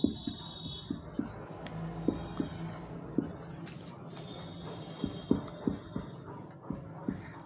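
A pen writes a math definition by hand on paper, with close scratching strokes and regular light taps as words are formed, quiet and steady with faint background noise.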